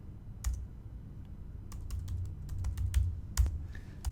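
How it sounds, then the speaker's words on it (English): Bursts of keystrokes on a computer keyboard, typed in quick irregular clusters with short pauses, close and fairly clear over a low steady room hum. "Oh, I guess I can't talk and type at the same time."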